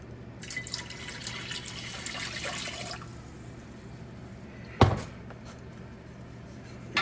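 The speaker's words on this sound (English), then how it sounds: "So now I'm gonna just add my white distilled vinegar." White distilled vinegar poured into a pot of sugar syrup for pickled onions, a steady splashing trickle of liquid for a few seconds, then quiet with a sharp knock of the container.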